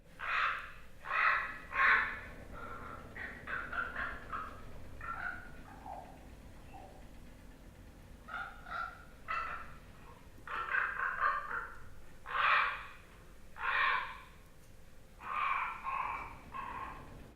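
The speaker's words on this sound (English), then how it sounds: "That's the raven, who's called Dotsan in the Koyukon language, or Tsikas, which means old grandfather. Highly intelligent, endlessly varied voice." A common raven calls in a series of hoarse, croaking caws in short bursts, with pauses between groups, moderately close over quiet outdoor background.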